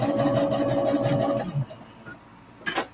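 A home sewing machine stitches practice fabric squares in a steady motor whir for about a second and a half, then stops, followed by a few soft handling clicks and a brief rustle near the end.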